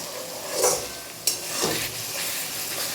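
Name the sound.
spice paste being fried and stirred for chicken curry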